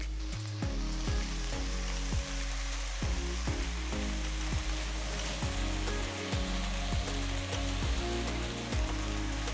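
Chopped spinach with onions and sliced garlic sizzles steadily in a pan, a constant close hiss with a pulsing low background hum and no voices.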